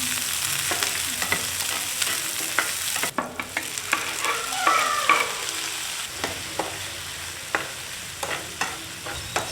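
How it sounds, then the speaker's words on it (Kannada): Garlic, mustard seeds, curry leaves, green chilli, onion and tomato sizzle steadily in hot oil for a Kannada-style tempering, with frequent sharp scrapes and clacks of a spoon stirring the pan, close and alone without talk. "ಒಗ್ಗರಣೆ ಚೆನ್ನಾಗಿ ಫ್ರೈ ಆದ ನಂತರ"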